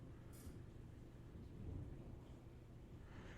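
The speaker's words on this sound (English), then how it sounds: "Again, major storms going through." Low rumbling thunder from a major storm rolls steadily underneath, swelling briefly near the middle, with a faint hiss of rain or wind throughout and no talking.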